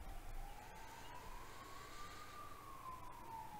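An ambulance siren wails faintly in the distance, one slow rising and falling tone over a low background rumble.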